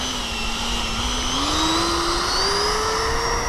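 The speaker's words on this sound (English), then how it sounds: "Half throttle takeoff." Freewing F/A-18 Hornet 90mm electric ducted-fan RC jet taking off at half throttle, a continuous whining fan roar whose pitch climbs steadily as it speeds up, fairly close and with no talk.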